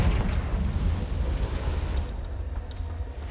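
A Confringo blasting spell bursts in a cave in Hogwarts Legacy, giving a dense, rumbling roar of explosion that fades slowly over a few seconds, with no talking over it.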